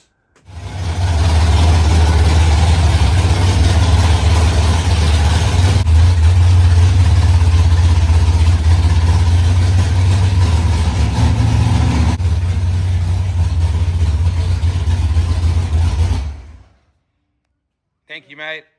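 A drag racing car's engine idles loudly in town, a heavy, lumpy low rumble that holds steady for about sixteen seconds before cutting off, followed by a brief bit of talk.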